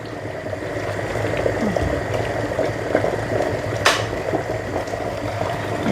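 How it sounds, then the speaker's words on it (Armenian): Water boiling in a pot for soup, a steady close bubbling and rumbling with a brief hiss of steam partway through. "ինչ էլ եռում է"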